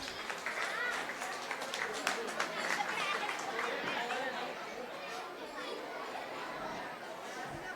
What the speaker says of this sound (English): Parents, please clap for our students.